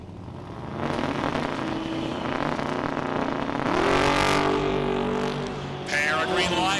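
Ford Falcon and Dodge Dart launch in a hot rod drag race final, engines roaring loudly and continuously, the pitch climbing as they accelerate down the quarter-mile while a commentator talks over them.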